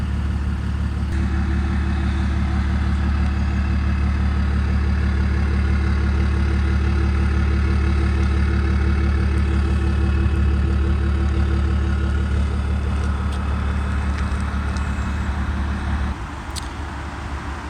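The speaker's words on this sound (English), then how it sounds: "I do like the way the exhaust sounds." A 2008-era BMW 335d E90 twin-turbo diesel with about 100,000 miles sits idling close by, its exhaust giving a steady, deep, even burble that holds level throughout and then drops slightly at the end.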